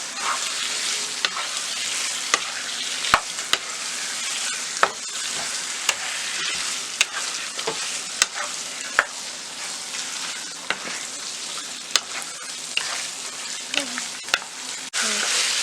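A kilogram of chicken being stirred into curry gravy in a hot pan, giving a loud, steady sizzle broken by frequent sharp spoon knocks and scrapes against the pan.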